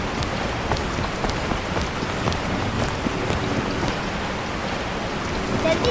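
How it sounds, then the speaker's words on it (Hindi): Steady rain falls outdoors in a continuous, even patter of drops striking surfaces, with no breaks and no voices over it. "जल्दी चलो बारिश बढ़ रही है।"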